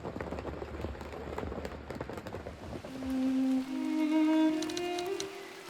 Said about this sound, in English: hearing the rain fall onto your tent